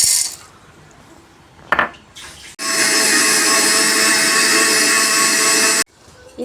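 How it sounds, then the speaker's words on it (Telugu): Mixer grinder grinding roasted peanuts, sesame seeds and dry coconut into a paste for stuffed brinjal curry, loud steady whirring motor running for about three seconds after a few clicks and handling noises, then abruptly stopping. "ఇప్పుడు ఈ 3 మిక్సీలో వేసేసుకుందాం."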